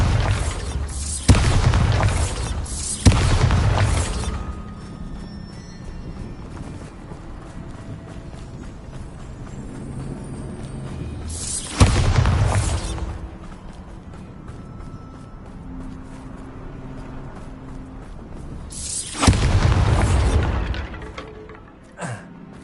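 Bombarda spell explosions in Hogwarts Legacy on PS5, three heavy booming blasts spaced several seconds apart, each with a long rumbling tail over a quiet ambient bed.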